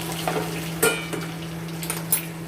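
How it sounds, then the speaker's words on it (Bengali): A lid clinks down onto a pan of mixed vegetables simmering on low heat for a vegetable roll, a few sharp metallic taps over a steady low hum, close and fairly quiet. "এবার আবার আমরা আবার ঢাকনা দিয়ে ঢেকে দেবো"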